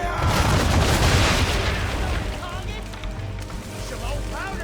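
Heavy ship cannon fire in Assassin's Creed 3 during a naval battle, a loud booming volley that rolls into a long rumbling decay, with shouted game dialogue over it.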